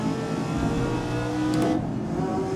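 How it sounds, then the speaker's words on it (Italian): A Ford GT40 in the GRID 2019 racing game roars continuously at high revs, loud and close, a dense steady engine drone with a brief shift in pitch near the end. "Ultimo giro, ragazzi. Gira al podio. Che ruggito quest'auto."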